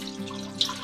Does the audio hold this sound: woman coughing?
no